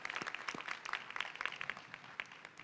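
Applause from a commencement audience at UCLA School of Law, softer and thinning, a dispersed patter of clapping hands heard at a distance in a large venue.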